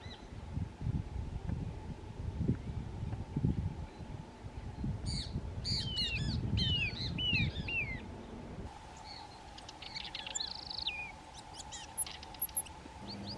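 Birds in eucalyptus woodland on the Argentine pampas give high, thin chirping calls in short bursts over a low rumble of wind or handling noise, fairly close with no talk.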